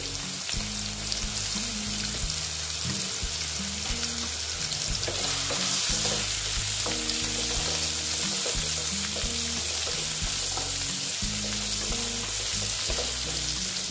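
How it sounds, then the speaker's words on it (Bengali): Potato pieces coated with turmeric fry in oil in a pan, a steady crackling sizzle throughout with recurring scrapes and clinks from stirring, fairly close and loud, with musical tones underneath and no voices. "দিয়ে আলুগুলো আস্তে আস্তে আমি ভেজে নিচ্ছি।"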